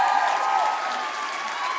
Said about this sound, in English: That deserves a full applause.